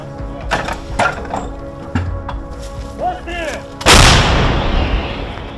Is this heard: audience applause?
no